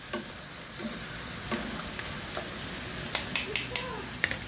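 Chicken tinola in a pan being stirred while it fries: a steady background sizzle broken by sharp scraping and clinking strokes of the spoon, moderately close, with no talking.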